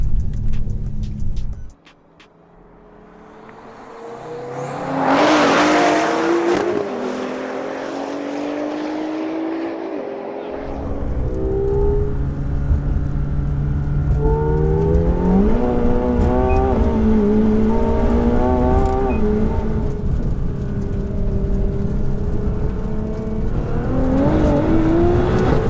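A tuned 840 hp BMW M5, an 860 hp Nissan GT-R and a McLaren 720S launch in a street drag race, engines roaring up through rising gear pulls with shift breaks, loud and sustained after a brief quiet start.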